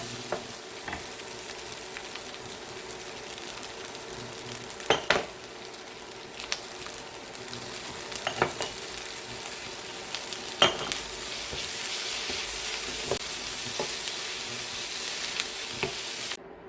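Shrimp fried rice made with multigrain bean rice is stir-fried in a pan, giving a steady close sizzle with scraping and stirring strokes and occasional clinks of a utensil against the pan.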